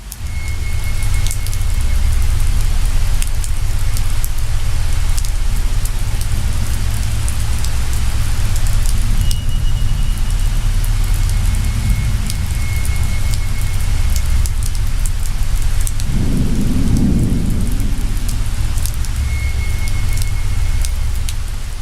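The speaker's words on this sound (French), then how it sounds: "Sous la pluie torrentielle" Torrential rain pours down in a steady, dense roar that fills the whole stretch, with a brief low rumble partway through and no voices over it.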